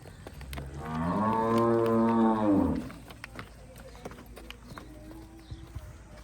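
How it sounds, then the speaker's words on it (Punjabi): A single long, deep moo from a large Cholistani-Friesian cross dairy cow rises and falls for a couple of seconds, then gives way to quiet background with scattered knocks. "ਵੱਡੀਆਂ ਗਾਵਾਂ ਨੇ"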